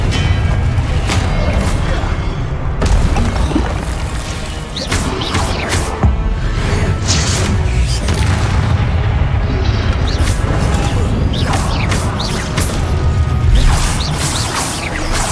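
Confringo blast spells burst repeatedly in Hogwarts Legacy during a fight with the Pensieve Guardian boss, a string of booming impacts and crashes over a constant rumbling backdrop.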